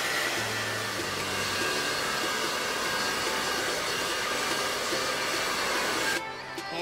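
A hair dryer blows steadily and loudly on hair for several seconds with a constant broad whoosh, then cuts off abruptly near the end.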